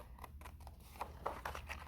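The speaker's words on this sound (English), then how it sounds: "So I'm going to take my scissors," Scissors snip through paper for a weaving craft, a quick series of soft crisp cuts at close range, quiet and irregular, with no talking.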